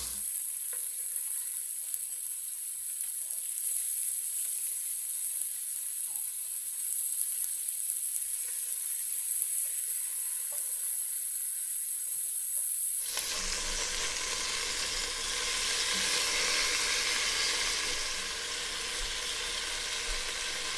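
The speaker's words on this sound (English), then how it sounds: "Brown it off with some salt and pepper until it's got a good Maillard reaction, which just means that it's nice and seared" Beef for New Orleans beef stew (grillades) seared in a pan with salt and pepper, a steady hiss of frying that is quiet at first, then jumps to a loud, close, continuous sizzle partway through.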